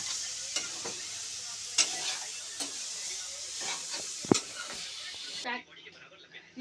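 Saag greens sizzle and hiss in a hot pan, with occasional stirring clatter and a sharp knock, until the frying noise drops away near the end.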